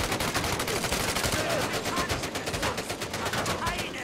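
Rapid gunfire in the World War II video game Medal of Honor: Above and Beyond, a steady, fast stream of shots at moderate distance, busy and continuous with no pauses.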